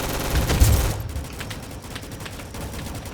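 Gunfire in the arcade game Rolling Thunder: a burst of rapid, loud shots at the start, then lighter scattered mechanical clicks and pops continuing under steady game noise, no voices.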